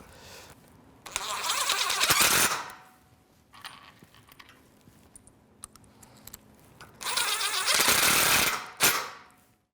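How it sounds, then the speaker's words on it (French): A power drill fitted with a 3/8 hex socket drives a screw through a base into a post, giving two loud sustained whirring bursts with a shorter burst at the end and quieter gaps between them. "une vis, notre perceuse avec notre douille hexagonale 3/8."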